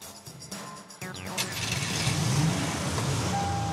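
A car engine fitted with an anti-theft tracking device starts up and settles into a steady running drone, loud and close, with a rising whine over the rumble.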